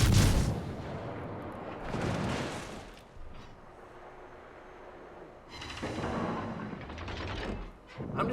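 Heavy naval cruiser guns in World of Warships fire salvos of shells, booming bursts near the start, around two seconds and again from about six seconds, with rumbling quieter stretches between.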